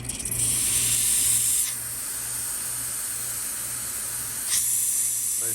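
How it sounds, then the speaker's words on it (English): Steam wand of a Breville BES920XL espresso machine hissing loudly and steadily at close range, the hiss dropping to a softer level midway before surging again near the end. "Let's test the steam."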